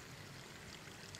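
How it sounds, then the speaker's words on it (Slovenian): Water flows from the spring of Saint Anthony into a small village pond. A faint, steady, broadband trickle and gurgle runs continuously, heard alone with no voices. "In voda v to majhno jezerce pa priteka iz vodnjaka"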